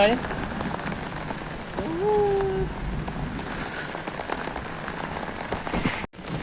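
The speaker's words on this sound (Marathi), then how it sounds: "पहिलो पाऊस ना गावचो त्यामुळे छत्री घेऊन इलय वरती स्लॅबवर." Rain falls on a flat concrete slab roof in the first monsoon shower of a Devgad village, a steady loud hiss of drops. A brief whistle-like tone rises through it near the start.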